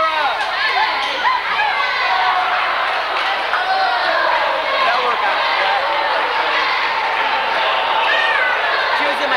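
Dense crowd noise fills a high school basketball gym during a 1994-95 game between Washington and Chicago Austin, Illinois: steady loud chatter and shouting with scattered cheers, close and continuous.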